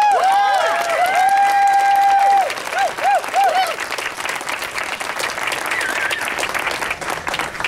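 Sustained audience applause at a speech event welcoming Oregon's 37th governor, John Kitzhaber, steady and full throughout, with some brief tonal whistling or feedback early on, and no talk over it.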